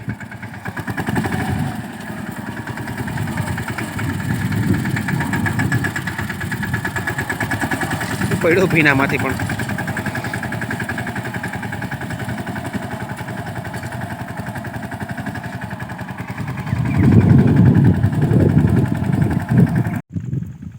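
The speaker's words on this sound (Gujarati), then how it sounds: "મને હાલે છે ટ્રેક્ટર" A tractor engine runs steadily in a windy village field, a continuous low mechanical drone throughout, growing louder and rougher near the end; people talk over it now and then.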